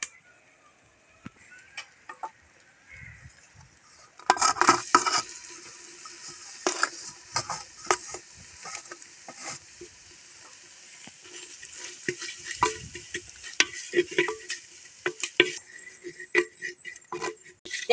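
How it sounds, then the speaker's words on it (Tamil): Grated coconut being dry-roasted in a pan and stirred with a spoon, heard as close, irregular scraping and tapping strokes that get busier partway through, over quiet background. "தேங்காயை நல்லா வறுத்துக்கலாம்."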